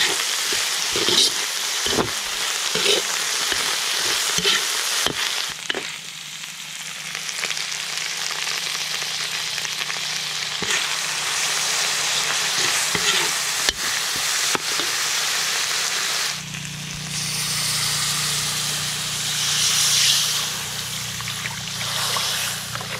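Fresh alamang shrimp paste frying in a pan during rural home cooking, giving a steady, close sizzle that swells louder and brighter partway through, with occasional small clinks and no talking.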